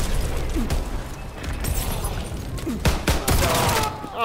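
Rapid gunfire with shotgun blasts in a Call of Duty: WWII multiplayer match, a busy run of sharp cracks and bursts that clusters near the end, with faint voices beneath.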